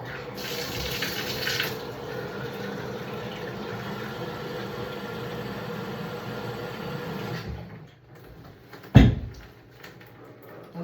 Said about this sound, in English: I'm gonna add a little bit of water in here with this